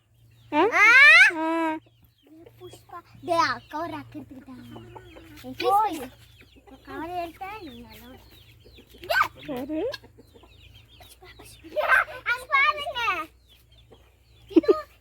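A chicken clucks and squawks in scattered bursts, close by, while a person talks in between over a faint low hum.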